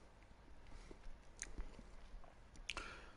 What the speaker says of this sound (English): if you hear me munching, I am eating my dinner